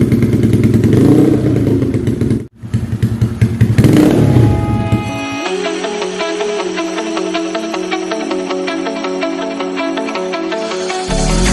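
Fuel-injected 2013 Honda Beat scooter engine, a close, loud mechanical idle with revving and clattering in the first seconds, a brief cutout, then a steady buzzing hum.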